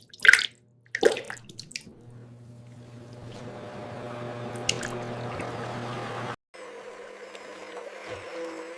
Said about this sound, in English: Everything blends into one smooth soap base.